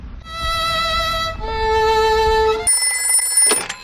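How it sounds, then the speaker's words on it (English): A cartoon telephone rings in bright, tonal electronic chimes that step up in pitch across a few repeated phrases, loud and clear, ending in a short sharper burst. "Let's phone Dr. Hamster the vet."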